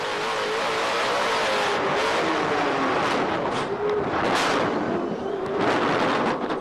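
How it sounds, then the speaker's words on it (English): A Pro 2 off-road race truck's engine roars at sustained full throttle over a jump during a 2009 LOORS championship race, loud and close with rough, crackling exhaust and wind noise throughout. "You can definitely hear Rodrigo never lifts going off the jump"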